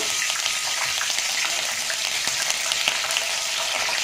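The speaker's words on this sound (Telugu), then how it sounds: "కరివేపాకు కూడా ఫ్రై అయిపోవాలన్నమాట." Curry leaves fry in hot oil, a loud, dense and steady crackling sizzle up close with scattered pops, and no talking.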